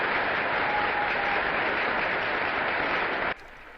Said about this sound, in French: À la suite de ces chaleureux applaudissements